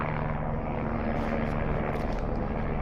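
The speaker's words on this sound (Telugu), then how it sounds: "హెలికాప్టర్లు మాత్రం రౌండ్లు వేస్తున్నాయి." Helicopters circling overhead at Kedarnath give a steady, droning engine roar with a low rotor hum that holds constant throughout, fairly loud and continuous, with no talk.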